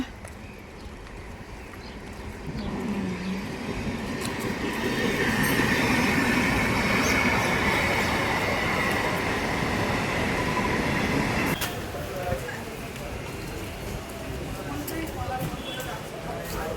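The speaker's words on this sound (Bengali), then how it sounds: "ট্রেন আসছে সামনে।" A train rolling past, a broad rumbling roar that builds over a few seconds, holds loud and steady with rattling wheels, then drops off sharply. A voice speaks over the noise.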